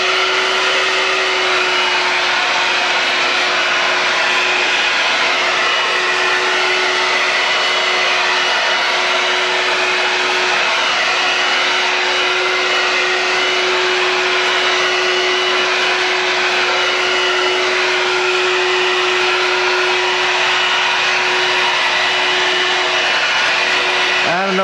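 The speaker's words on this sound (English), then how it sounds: "the sweeper is picking up some little debris that's on the rug" An old vacuum sweeper runs on a rug picking up small debris, a loud steady motor whine with a constant hum throughout and no pauses.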